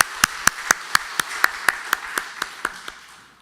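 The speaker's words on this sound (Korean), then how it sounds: "우리 수고에 한번 격려의 박수 부탁드립니다." A single person's slow, evenly spaced handclaps ring out clearly in a church during a Sunday worship service after the choir sings, about a dozen sharp claps that gradually soften and fade.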